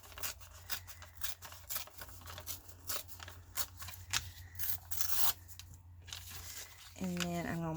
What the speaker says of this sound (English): I like the ripped look, so I'm just going to rip this down through here